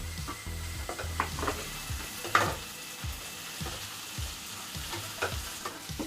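Brinjal pieces and dried turkey berries sauté in oil for vatha kuzhambu, a soft steady sizzle broken by regular scraping stirs of a ladle in the pan.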